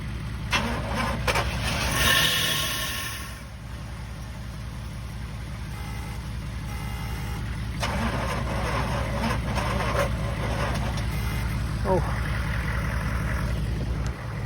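A 1971 Oldsmobile Cutlass Supreme engine cranking and catching after a revival, then running with a rough, steady idle close by while a hooked-up truck adds background noise.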